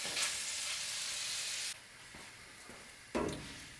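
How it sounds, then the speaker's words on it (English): Onion sautéing with browned ground beef in a camp-style tater tot casserole pan, a steady bright sizzle that drops off partway and flares briefly near the end as the food is stirred. "we'll throw in the onion and kind of saute the onion in with the beef here"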